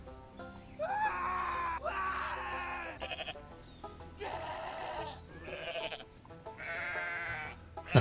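Goats in the video game Goat Simulator 3 scream and bleat in several loud, strained bursts, one after another with short gaps between them, and no speech is heard.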